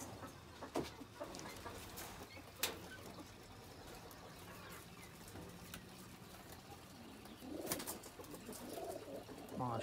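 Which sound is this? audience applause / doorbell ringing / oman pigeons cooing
oman pigeons cooing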